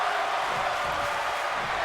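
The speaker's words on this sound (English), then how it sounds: "Crowd is loving this match." A steady arena crowd roar fills a ladder match in the wrestling game WWE 2K22, broad and unbroken with faint cheering mixed in.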